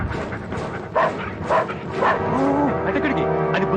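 Police dogs barking and yelping in an action comedy scene, with several short barks and whimpers under and between shouting voices, mixed with background music.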